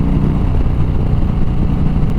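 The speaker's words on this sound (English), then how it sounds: "my only complaint is just how much the bike rumbles and vibrates when you're stopped, when you're idling" A Harley-Davidson Fat Bob idles nearby with a steady, loud, low rumble and vibration that stays even and continuous throughout, with no voices over it.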